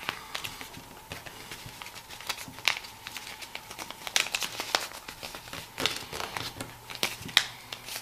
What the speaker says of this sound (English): Doesn't really matter how you fold it, just have to fold it a bunch of times.